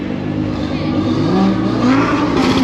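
A car engine revving at a Japanese car meet in Reading, a loud, close rising drone that climbs in pitch across a couple of seconds.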